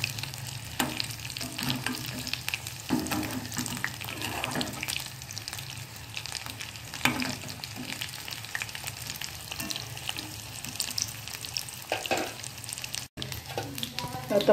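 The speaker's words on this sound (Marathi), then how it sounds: "अशाच आपण ह्या सगळ्या मिरच्या आपण फ्राय करून घेऊया" Gram-flour-stuffed green chillies fry in a pan, a steady sizzle under intermittent turning and scraping sounds, with a short dropout near the end.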